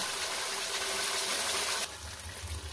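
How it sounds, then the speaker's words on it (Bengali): Spice-rinsing water pours into a hot cooking pan with a loud, close gushing splash that cuts off abruptly near the end, leaving a softer low bubbling. "মশলাপাতি ধোয়া জলটা আমি দিয়ে দেবো"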